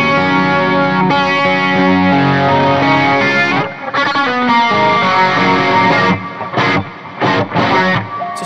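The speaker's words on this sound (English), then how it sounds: "I've got this grit glass sound, which is like my slight distortion sound on top of it." Electric guitar played through a Fractal Audio Axe-Fx III with a slight grit distortion, sustained meaty chords and notes ringing with chorus and echo effects, loud and close, with brief pauses and re-struck chords toward the end.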